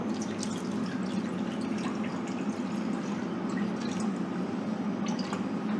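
Water and a little olive oil pour into a cooking pot for boiling short pasta, a steady liquid rush with faint dripping running evenly throughout, close and moderately loud.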